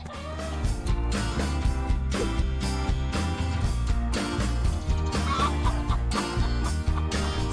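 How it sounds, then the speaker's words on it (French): A farm hen clucks repeatedly over a steady, full musical backing, the short clucks recurring in an uneven rhythm throughout. "Ça, c'est une poule."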